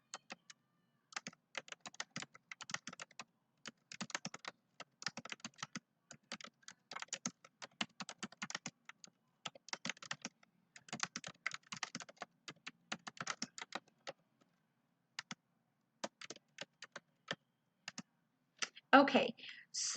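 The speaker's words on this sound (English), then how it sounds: "Click in the text box and type out what you would like your wording to say." Rapid keystrokes on a computer keyboard as text is typed into a design program, coming in irregular bursts with short pauses and a louder clatter near the end.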